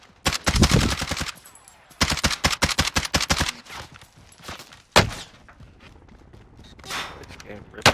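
Rapid automatic gunfire in a video game, loud close bursts of quick shots in two long strings, followed by scattered single shots and thumps with softer distant fire.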